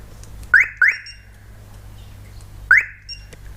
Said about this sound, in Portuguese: A sirene já está a funcionar